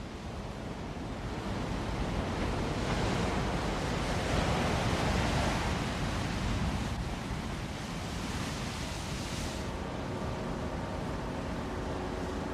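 Ocean waves break continuously on a long sandy beach, a steady, full roar of surf with wind mixed in that barely rises or falls throughout.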